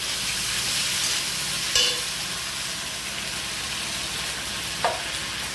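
Onions fry with ginger garlic paste in a pan over a rural outdoor fire. A dense, continuous hiss and sizzle runs throughout, broken by a couple of brief clinks and scrapes.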